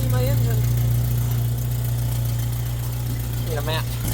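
A Jeep Wrangler TJ engine, with a leaking valve gasket and an exhaust manifold missing a bolt, idles while warming up: a steady, loud low rumble with constant vibration, close by and unbroken throughout.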